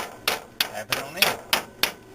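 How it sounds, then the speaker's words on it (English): Hammer taps seat a part during a strut replacement on a Chevrolet Trailblazer: six sharp, evenly spaced metallic knocks, close and loud, with no talking. "Tap it on in."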